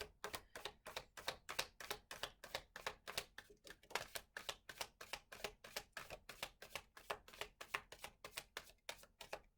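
Tarot cards are riffled and tapped in a fast, even run of crisp clicks, close and steady with no talking.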